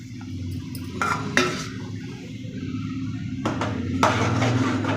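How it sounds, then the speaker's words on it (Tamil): Food is stirred in a cooking pot, with a spoon scraping and clinking against the metal in a few distinct bursts over a low, steady background hum, close by with no voices. "கிளறி கொடுத்துக்கலாம் நல்லா"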